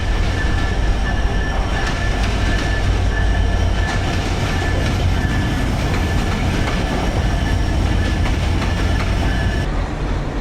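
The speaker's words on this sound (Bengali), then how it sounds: "এদিকে ট্রেন চলে আসলো ঢাকাগামী চিলাহাটি এক্সপ্রেস।" A Dhaka-bound Chilahati Express train arrives at a Bangladeshi station, a loud, steady rumble of rolling railcars with clickety-clack of wheels on the rails and a thin high squeal running throughout.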